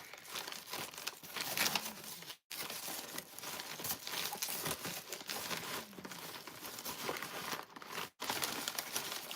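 A plastic bag crinkles and rustles continuously while being handled up close during packing, with two brief pauses in the handling.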